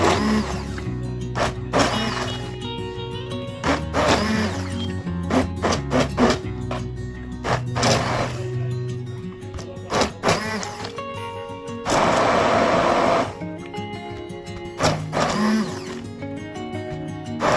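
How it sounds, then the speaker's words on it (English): Mustard greens are blended into a coarse saag paste in bursts, the motor whirring on and off repeatedly with short pauses and one longer, louder grinding run near the end. "Mix it thoroughly and start blending it at equal intervals."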